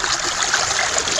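Rushing water pours steadily as a gold-prospecting sluice box is lifted out of a river, a continuous close splash and trickle without pause.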